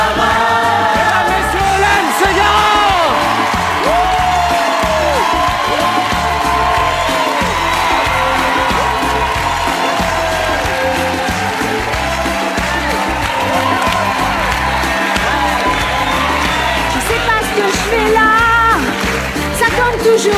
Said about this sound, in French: Veuillez tous applaudir.